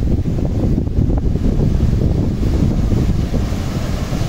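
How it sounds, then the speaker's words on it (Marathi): Wind and surf at Ganpatipule beach, with steady, loud wind buffeting the microphone over a constant low roar of waves and no one speaking. "आणि त्यालाच लागून हा गणपतीपुळे बीच"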